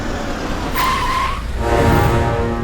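A car brakes hard and skids, its tires letting out a loud squeal over engine noise, close and brief, with no voices.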